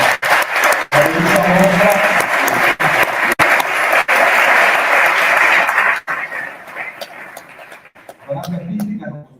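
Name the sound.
applause for an art exhibition opening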